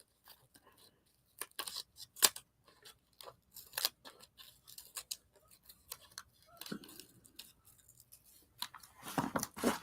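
Scissors snip and cut something out in a series of irregular, crisp clicks and slices, close and fairly quiet, with a few soft rustles and a brief murmur of a voice near the end.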